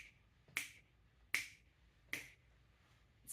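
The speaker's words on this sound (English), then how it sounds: "It's a snap." Three crisp, sharp finger snaps evenly spaced about three-quarters of a second apart, close and isolated against near silence, with a fourth beginning at the very end.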